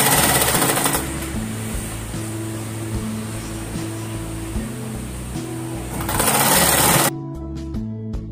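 A sewing machine stitching a seam on a frilled saree petticoat, running as a steady, loud whirring drone with a rhythmic low thump, then cutting off abruptly near the end and leaving near silence.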